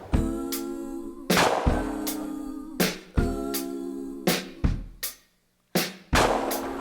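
A side-by-side shotgun fired at clay targets on an open shooting ground, several loud close reports in quick pairs, each with a sharp crack and a short ringing decay.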